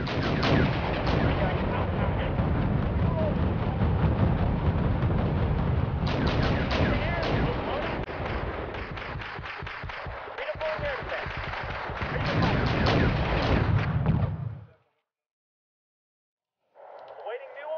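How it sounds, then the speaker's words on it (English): Artillery bombards tanks in the Wargame European Escalation video game: dense, continuous loud booms and gunfire roll on for about fifteen seconds, cut to silence, then the battle noise resumes briefly. "so I'm going to try to bombard them."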